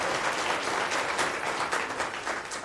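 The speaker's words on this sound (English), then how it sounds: "Applause is great." An audience applauds after a conference talk about open-source projects, a dense, steady wash of many hands clapping at moderate loudness throughout, with no voices over it.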